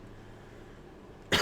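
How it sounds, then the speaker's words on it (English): A single abrupt cough bursts out close and loud at the end after a quiet room-tone stretch. "Sorry guys, a little cough there."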